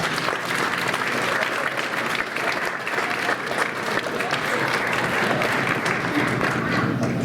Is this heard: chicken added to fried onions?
no